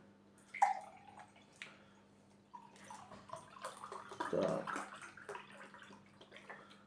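Pineapple-apple nectar poured from a carton into a glass, a splashing, gurgling stream with drips and a short trickle, heard close up under a brief spoken word.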